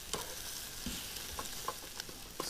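A spatula scrapes and stirs dehydrated hash browns O'Brien frying with ham in a camping pan, with a steady sizzle broken by several short metallic scrapes and taps at an even, unhurried pace, close and fairly quiet.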